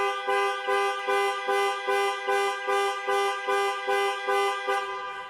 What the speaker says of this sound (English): Press for 3 seconds or press 3 times in 3 seconds, and the horn will sound